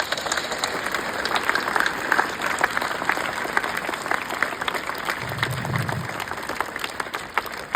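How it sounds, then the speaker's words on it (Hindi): An audience at a National Mathematics Day event applauds with steady, even clapping at moderate volume for the whole stretch, with no speech over it. "तालियां बजनी चाहिए इस पर।"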